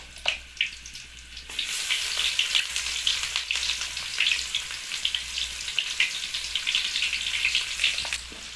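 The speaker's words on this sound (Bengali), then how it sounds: "দেখো অয়েল গরম হয়ে গেছে, তো আমরা এখন পেঁয়াজটা দিয়ে নেবো" Chopped onion hits hot oil while cooking a bottle gourd and pumpkin dish, bursting into a loud, close sizzle after a quiet start, then a steady crackling fry with light stirring clicks, no voices.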